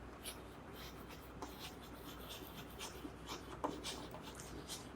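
A pen writes numbers during a class 8 percentage lesson, giving a soft, steady scratching and tapping close by, with no talk over it.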